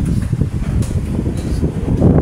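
A strong, steady rush of air from an air conditioner fan blows loudly and continuously, with a broad whooshing roar close by.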